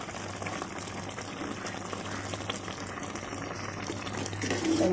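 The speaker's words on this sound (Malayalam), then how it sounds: "ഇനി ഇങ്ങനെ കിടന്ന് തിളയ്ക്കട്ടെ" Payasam (palada) mixture boils in a pot with a continuous bubbling, churning sound, close and steady, growing slightly louder near the end.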